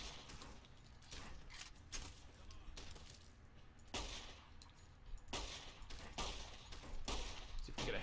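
Gunfire in the game Fallout: New Vegas, several sharp shots spread across the stretch at irregular intervals, medium loud over a steady game background, with someone talking at times.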